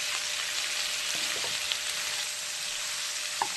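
Black cumin seeds temper in hot oil, giving a soft, even hiss of frying with a couple of tiny pops, close but fairly quiet, with no voices.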